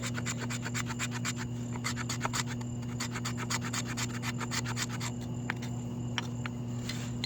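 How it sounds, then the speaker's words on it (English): Knife taking small shavings from a piece of fatwood, with quick rhythmic scraping strokes repeating at close range over a steady low background hum. "I'm going to take a few more little shavings"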